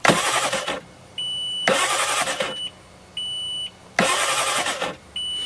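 A Kawasaki STX-15F jet ski engine cranks on its starter in three separate bursts, each lasting about a second, with a steady electronic beeping between them, during winterizing.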